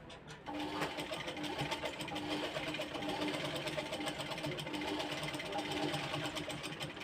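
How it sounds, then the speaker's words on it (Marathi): A sewing machine runs a double line of stitching on a blouse, a fast, even mechanical chatter that starts abruptly and continues steadily close by. "आता मी डबल शिलाई मारून घेते"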